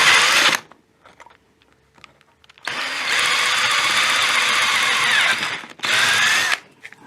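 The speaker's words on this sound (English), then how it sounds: "I'll use a bigger drill and try and drill out the middle." A bigger power drill bores out the middle of a part of a Philco Alabama radio, three loud close whirring bursts: a short one, a long steady run, then a brief final spin, with quiet gaps between.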